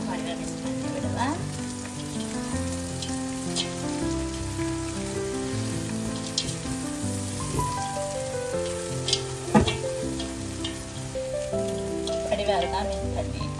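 Onions and sauce sizzle and sputter steadily in a hot pan for chicken noodles, a continuous crackling fry with occasional stirring and pops, close and loud throughout.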